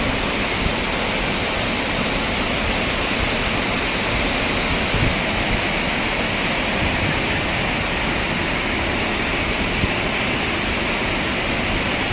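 A steady, loud roar of water rushes from the opened shutters of Malampuzha Dam, a dense, unbroken torrent with no pauses and no voices.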